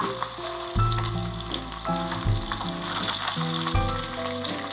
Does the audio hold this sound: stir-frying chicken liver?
yes